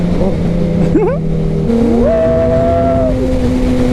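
Kawasaki ZX-6R sport motorcycle engine accelerating up close, a steady loud drone with rising pitch sweeps as it revs and shifts, under brief faint voices.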